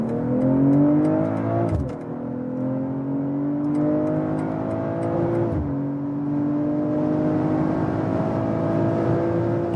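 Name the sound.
BMW M340i accelerating hard on the Autobahn in Sport Plus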